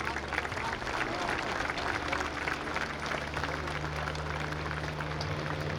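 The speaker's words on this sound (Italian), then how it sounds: "Bel applauso a Paolo Pocobelli" Outdoor air show crowd at Jesolo applauding a Cap 10 aerobatic pilot, a steady wash of clapping heard at a distance beneath someone speaking over a loudspeaker.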